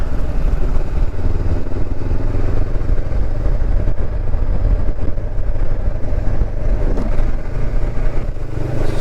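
A Honda CB500X motorcycle rides across Dartmoor National Park, its engine droning loud and steady from up close, blended with rushing wind and road rumble and no speech.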